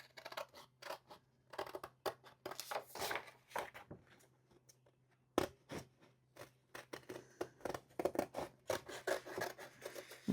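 Scissors rough-cut two-tone paper by hand for a gift card holder, giving a quiet, close series of crisp snips and rasping slices in irregular bursts.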